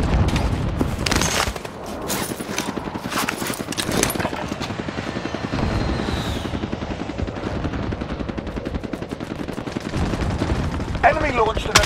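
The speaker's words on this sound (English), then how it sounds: "friendly precision airstrike inbound" A precision airstrike rains down in the Call of Duty Warzone video game, with bursts of heavy gunfire, rattling fusillades and a helicopter-like drone layered close together, while voices talk over the din.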